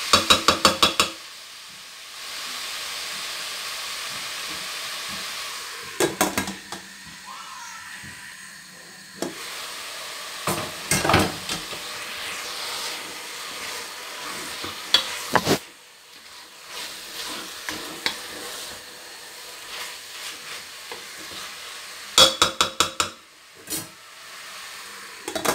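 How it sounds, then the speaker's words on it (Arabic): Meat for Fassi-style kebab mghdour stirring and browning in a pan, a steady sizzle and hiss broken by repeated clatters of a utensil scraping and knocking the pan, close and fairly loud, with no talking. "وغادي نحرك. غادي نخليه يتشحر"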